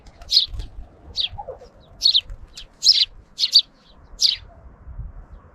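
A small cartoon sparrow chirps in a string of short, bright tweets, about seven clear calls spaced irregularly, close and loud over a soft low background.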